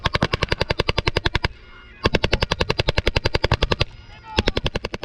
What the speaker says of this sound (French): une troupe allemande dégarnie compte sur le pouvoir de sa mitrailleuse